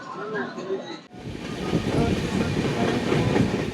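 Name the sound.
Saraighat Express train running after leaving Cooch Behar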